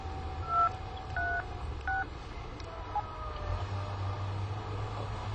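Telephone keypad dialing tones in a Korean radio drama reading: a few short beeping tones, then a steady phone tone, heard faintly over low background hum with traffic-like rumble.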